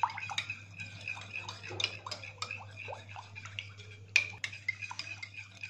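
Shampoo is whisked into a cup of salt water, giving close, quick clinks, swishing and light splashing against the container, irregular and fairly soft, with a low steady hum underneath.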